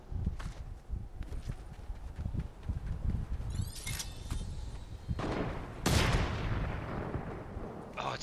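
Sniper gunfire rings out in a video game battle, several sharp cracks spread over the clip with one loud shot near the end, set against background game noise and movement.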